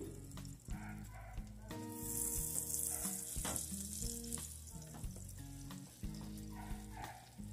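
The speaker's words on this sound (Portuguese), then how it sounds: "aqui a gente vai acrescentar a manteiga." Butter melts and sizzles in a pan for a béchamel sauce, giving a quiet, steady hiss with light crackles and occasional utensil taps, heard up close alongside a background tonal hum.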